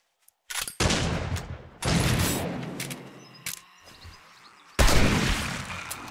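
Gunfire in the 7 Days to Die video game: a few loud, sharp bursts of shots, each trailing off, separated by quieter gaps with no talking.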